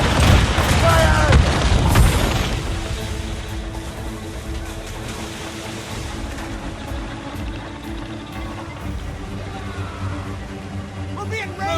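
Ship cannons fire in Assassin's Creed Rogue, with a burst of heavy booms up front fading into a rumbling, battle-noisy wash while voices shout over the action.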